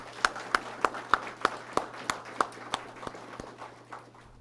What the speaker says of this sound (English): I'm going to ask that everybody give the families a round of applause